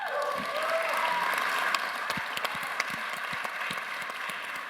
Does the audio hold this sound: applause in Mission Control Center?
yes